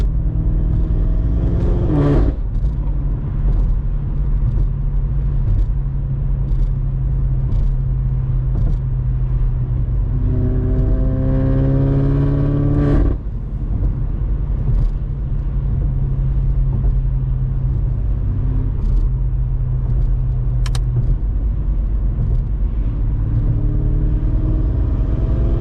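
A straight-piped BMW F90 M5 drives along with a loud, steady engine drone and exhaust rumble heard from inside the car, with a couple of rising rev surges mid-drive and no talking.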